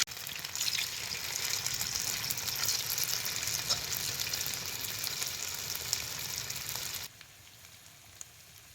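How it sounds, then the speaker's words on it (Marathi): Steady, dense sizzling of chicken frying in hot oil, loud and close, running continuously before dropping away abruptly near the end. "आता तेल बी चांगलं तापले. आता ह्याच्यात चिकन सोडायचं."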